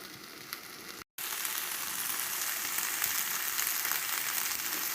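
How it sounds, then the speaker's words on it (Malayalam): Sliced okra and green chillies sauté in hot oil in a pan, giving a steady, close, loud sizzle with a brief gap near the start and no talking. "അരിഞ്ഞു വെച്ച വെണ്ടയ്ക്കയും പച്ചമുളകും കൂടി ചേർത്ത് വഴറ്റുക"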